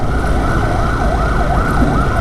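An emergency vehicle siren, fire truck or ambulance, wails loud and close in repeated rising and falling sweeps over road traffic rumble.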